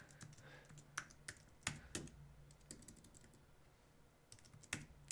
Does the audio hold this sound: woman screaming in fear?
no